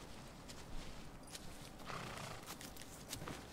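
A horse in the video game Shadow of the Colossus, with faint clip-clop hooves and movement sounds over a noisy background, quiet and steady throughout.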